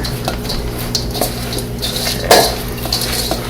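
A spoon scrapes and clinks against a bowl while stirring partly frozen potatoes for a cheesy potato casserole, making a close, busy patter of soft knocks and scrapes with one louder clunk midway.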